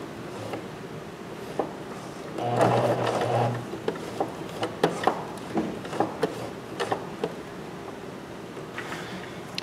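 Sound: sewing machine stitching a skirt dart

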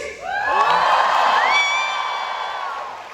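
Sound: concert crowd shouting and cheering

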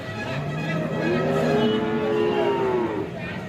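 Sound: cow mooing at a cattle market

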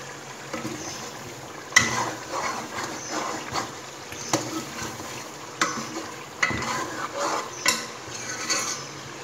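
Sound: masala with chili frying in a pan on low flame

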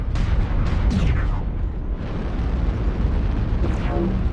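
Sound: airstrike explosions in the video game MechWarrior Online

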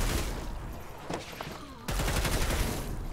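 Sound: automatic carbine burst fire in the video game Dead Island 2

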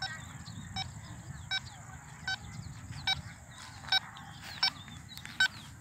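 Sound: Quest Pro metal detector sounding over metal

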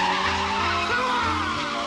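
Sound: Ferrari tires skidding in film Scent of a Woman

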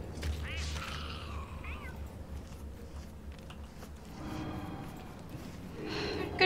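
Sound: cat meowing in the video game Don't Starve Together

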